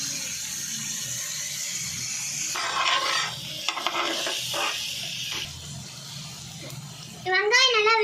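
Onions stirred and sautéed in a pan for a South Indian fish curry (meen kulambu): soft sizzling with intermittent scraping and stirring strokes, and a brief voice near the end.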